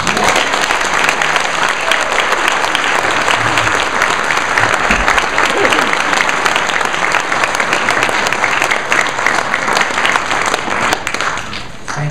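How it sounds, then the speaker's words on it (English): A lecture audience at the Vassar Brothers Institute in Poughkeepsie bursts into sustained, loud applause for a visiting physician speaker, dense clapping steady throughout and tapering slightly at the end. "So please join me in giving a resounding Poughkeepsie Mid-Hudson Valley applause."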